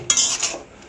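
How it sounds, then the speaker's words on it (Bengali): Poppy seed paste for aloo posto being stirred in a pan, a short close scraping and clinking of a utensil against the pan lasting under a second, with no talk. "দেখো এবার আমি পোস্তটাকে একটু নাড়িয়ে নিয়ে 2-1 মিনিট জাস্ট ফোটাবো"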